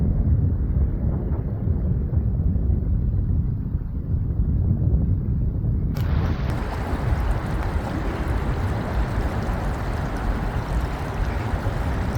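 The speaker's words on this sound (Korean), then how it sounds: "오늘 청계천 바람이 매섭게 불어오고 있습니다" Strong wind gusting steadily along Cheonggyecheon stream in Seoul, a dense, roaring rush of wind buffeting the microphone for the whole stretch, with no voices.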